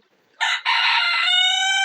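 A rooster crows once on a Fayoumi chicken farm, loud and close, with a brief broken start before a sustained, ringing crow.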